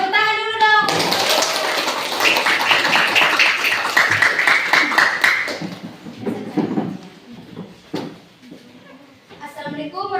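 Children applauding in a classroom, a dense burst of many small hands clapping that runs for several seconds and then fades, with a teacher's voice and children's chatter around it.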